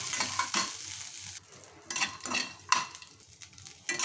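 Ingredients for ginger chutney frying in a pan, a close sizzle that rises and falls in bursts with spatula stirring and scraping against the pan.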